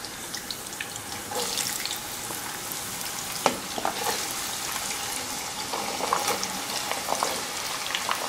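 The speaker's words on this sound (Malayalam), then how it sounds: "അതിനകത്തോട്ട് ഞാൻ ഈ മാങ്ങ കട്ട് ചെയ്ത് ഇടാൻ പോവാണ്." Cut mango pieces fry in hot sesame oil for a mango pickle, making a loud, continuous bubbling sizzle close up, with occasional stirring clinks and spatters. There is no talk.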